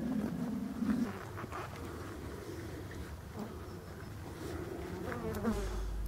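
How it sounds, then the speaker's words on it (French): Black honeybees buzz around hives at an apiary: a steady, close, droning hum of many insects, with individual bees swelling louder as they fly near. "on va faire un petit tour de mon rucher hein, que je sélectionne le plus possible en abeille noire"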